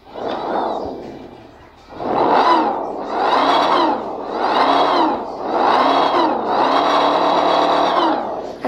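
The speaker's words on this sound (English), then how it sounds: "That's a supercharger." A supercharged car engine revs loudly in a series of five or six sharp bursts, each climbing and falling in pitch with short gaps between them, close by and alone.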